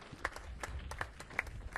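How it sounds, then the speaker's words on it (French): Sparse, uneven hand clapping from a small audience at a live radio show, a few distinct claps spaced across a brief stretch, fairly faint. "On applaudit bien fort"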